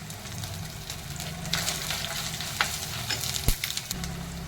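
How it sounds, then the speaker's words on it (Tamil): Green chillies and curry leaves sauté in hot oil in a pan for a prawn kuzhambu, with a steady close sizzle broken by stirring scrapes and one sharp knock. "இப்போ 3 பச்சை மிளகாய் போட்டிருக்கேன், கொஞ்சமாக கருவேப்பிலை, அதையும் போட்டு நல்லா வதக்கிடலாம்"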